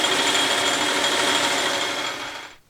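A metal lathe cuts mill scale from the inside of a steel wheel, producing a steady, loud, continuous grinding scrape with no pauses that fades away at the very end.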